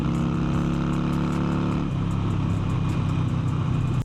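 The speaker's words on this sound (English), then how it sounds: "I can't get over the sound of these bikes" A Harley-Davidson Sportster 883 with an Evo engine runs steadily, loud and close, with a deep, even engine drone that shifts pitch slightly about halfway through; no voices.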